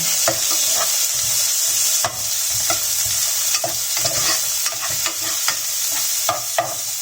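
Garlic and onion frying in a pan, a loud close hiss and crackle with frequent scraping stirs of a utensil against the pan at an uneven rhythm.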